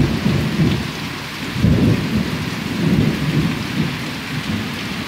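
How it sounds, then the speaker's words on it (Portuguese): Heavy rain pours down steadily on a rural smallholding while low rumbles of thunder roll through repeatedly, all close and loud with no talking. "Olha o trovão."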